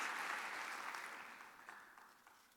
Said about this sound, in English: Give a round of applause for her chicken.